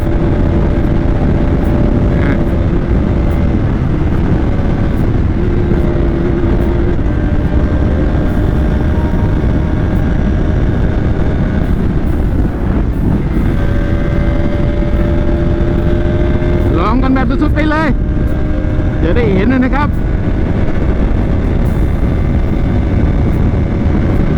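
A Bajaj Pulsar RS200 motorcycle engine hums loudly and steadily while riding, under heavy wind rush, with the engine pitch wavering and rising briefly near the end.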